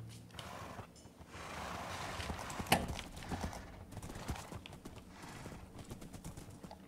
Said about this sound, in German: Pferderennen.